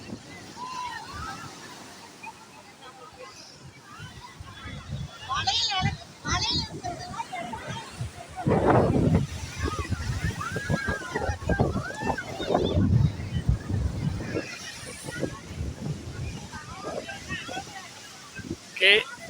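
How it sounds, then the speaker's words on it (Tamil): Sea waves washing onto Marina beach in Chennai, a steady windy roar with swelling surges, distant voices and beach activity mixed in. "இந்த கடலோட சவுண்டு இங்கே இருக்கிற வைப்பை ஒரு டூ மினிட்ஸ் நீங்கள் என்ஜாய் பண்ணுங்கள்"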